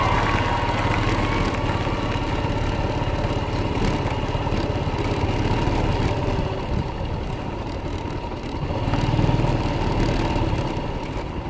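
A motorcycle engine idles steadily close by at a school on a holiday day shift, a constant low rumbling hum with no break and no one talking.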